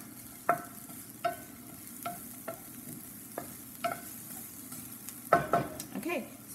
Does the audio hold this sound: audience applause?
no